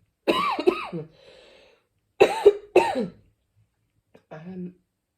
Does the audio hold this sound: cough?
yes